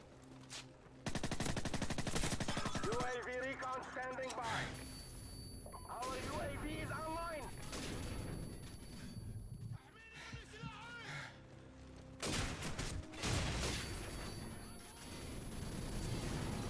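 Gunfire rattles through a Call of Duty 4: Modern Warfare firefight, loud bursts of automatic shots and single cracks coming in clusters, with a player's voice cutting in between the volleys.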